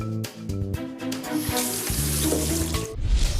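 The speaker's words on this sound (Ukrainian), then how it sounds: "Заходимо в туалет і дивимося на кран, чи є на ньому аератор." A toilet-room sink tap in a Ukrainian government office runs without an aerator, giving a steady close splashing rush of water that swells louder toward the end, with no talk over it.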